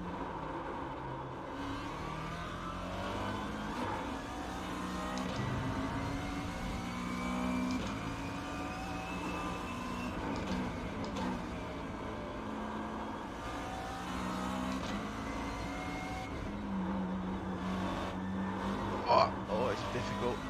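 Race car engine of a McLaren MP4-12C GT3 lapping the Nordschleife in the sim racing game iRacing, a steady droning rev that rises and falls through gear changes, heard under continuous talking.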